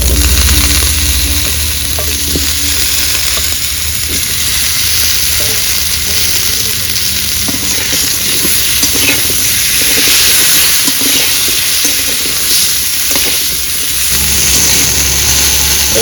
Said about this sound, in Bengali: আলুর মধ্যে এবার পুঁই শাক দিয়ে দেব পুঁই শাকটা হালকা করে ভেজে নিয়ে